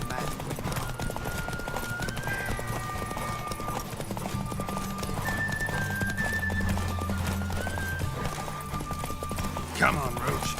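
The horse Roach gallops in The Witcher 3: Wild Hunt, a rapid clip-clop of hooves under game music, with voices talking over the hoofbeats.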